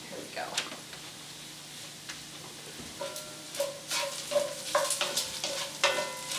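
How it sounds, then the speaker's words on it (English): Corn tortillas frying in oil at a farmer's market cooking demonstration, a soft sizzle with scraping and clinking of utensils stirring, quiet and close, with people talking over it. "If you are using corn tortillas, you want to make sure you add the oil and fry them."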